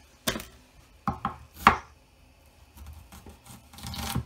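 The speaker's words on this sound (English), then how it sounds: "We're just going to chop up some onion." A knife chops through an onion on a cutting board in a home kitchen, making a few separate sharp close-up chops with pauses between them, followed by softer scraping and rustling.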